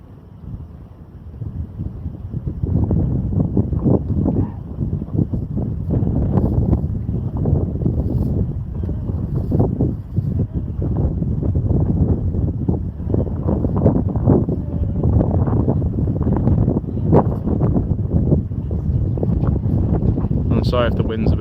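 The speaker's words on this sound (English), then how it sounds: "Sorry if the wind's a bit of a pain as well." Strong wind buffeting the microphone on the bank of the River Mersey, a continuous low roaring rumble that swells in gusts for the whole stretch and sits loud and close.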